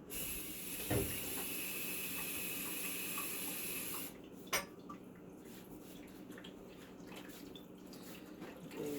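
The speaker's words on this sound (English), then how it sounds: "I'm going to add some water." Water pouring from a tap for chicken stock in a crock pot, a steady hissing stream that cuts off partway through, followed by quieter clinks and drips.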